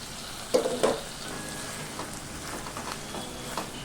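Dry ribbon fish and amaranth leaf curry cooking in a covered pan, a soft steady bubbling sizzle with a few light taps near the start, faint and continuous with no voices.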